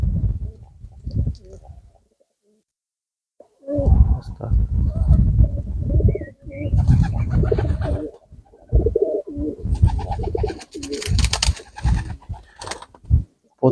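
Pigeons coo in low, throaty bursts near the microphone, repeating over several seconds, with a brief pause early on and some rustling.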